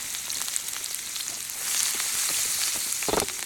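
Sliced dried onions frying in hot oil with asafoetida, curry leaves and green chilies in a pan, a loud continuous sizzle that swells midway, with a few crackles and no voices.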